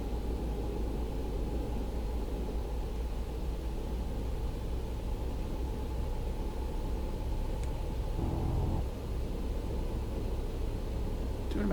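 A new Freightliner Cascadia truck climbs US Highway 491 in Colorado in American Truck Simulator, a steady low engine drone with road rumble holding level throughout, close and even with no talking.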